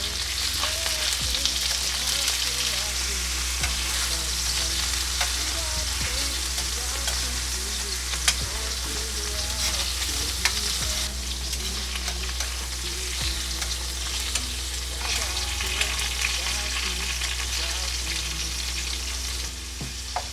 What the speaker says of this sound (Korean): 먼저 올리브오일에 마늘을 넣고 버터구이를 할 겁니다